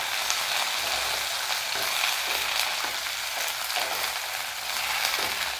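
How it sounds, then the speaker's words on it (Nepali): Pointed gourd (parwal) and onion fry together in a pan with a steady, close sizzle that runs continuously throughout, broken by occasional stirring scrapes. "यो परवल र प्याजलाई चाहिँ यसलाई रातो हुन्जेलसम्म खर्याउनु पर्ने हुन्छ"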